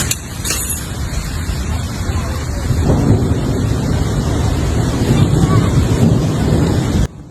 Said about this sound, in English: powerful gusts of wind swept through narrow streets, sending loose objects flying